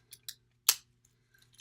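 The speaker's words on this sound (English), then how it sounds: "So, get some scissors" Scissors snip open a cosmetics subscription box: two light clicks, then a louder sharp cut, with small rustles of packaging afterward over a low background hum.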